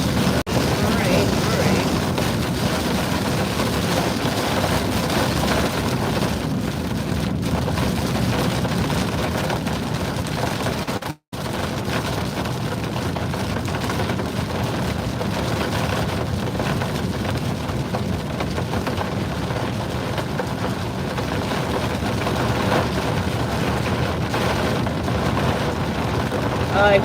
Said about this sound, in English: It's really raining right now.